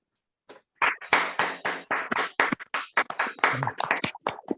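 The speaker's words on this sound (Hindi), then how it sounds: "स्वागत कीजिए तालियों की गड़गड़ाहट से श्री विजय सिंह जी को" Clapping from an online meeting audience welcoming a guest speaker, a fast run of separate sharp claps from a few unmuted participants, fairly close and uneven, with no talk over it.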